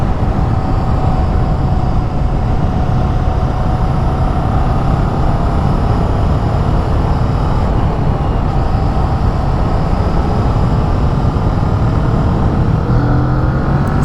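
A Kawasaki Vulcan S cruiser motorcycle running at speed on a highway, heard as a loud, continuous engine drone smothered in heavy wind rush, steady throughout with a slight shift in pitch near the end.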